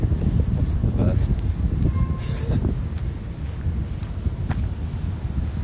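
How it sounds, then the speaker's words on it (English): Wind blowing outdoors on a city street on a chilly spring day, a steady rumbling gust noise buffeting the microphone, loud and continuous with faint background activity. "The wind's not too gnarly."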